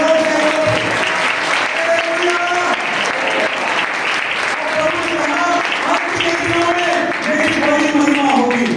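A church congregation at a special prayer meeting bursts into loud, sustained applause that fills the whole stretch, with voices rising through the clapping.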